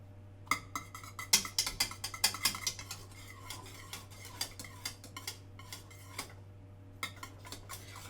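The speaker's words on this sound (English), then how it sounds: "I'm going to continue to mix and let it thicken up more" Thickening custard stirred in a pan on the heat: a utensil clinks and scrapes against the metal in irregular quick strokes, with brief pauses, over a low steady hum.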